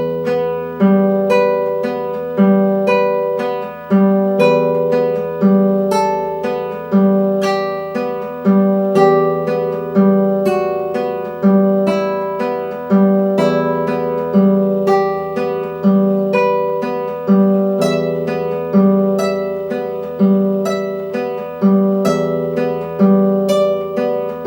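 Slow fingerpicked guitar pattern, steady repeating arpeggiated notes with a low bass note recurring every few seconds, close and clear, no talking, played with bare fingers.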